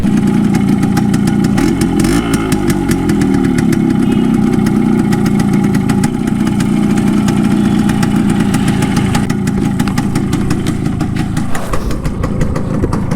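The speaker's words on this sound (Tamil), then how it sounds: "நம்ம இன்ஜின் சவுண்டு எப்படி இருக்குன்னு பார்த்துப்போம்" A stock Yamaha RX100 motorcycle engine idles close by with a steady, rapid chugging rumble that carries on without a break, and no voices are heard.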